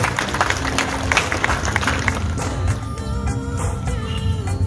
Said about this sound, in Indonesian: tepuk tangan untuk teman-teman pers